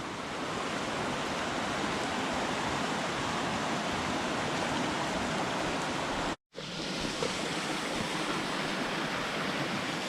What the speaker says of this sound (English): Got water running down off the hillside.